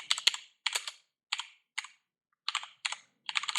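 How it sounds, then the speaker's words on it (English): A command typed on a computer keyboard during microcontroller setup: quiet, close bursts of rapid key clicks in short groups separated by pauses, with no talking. "So we'll type"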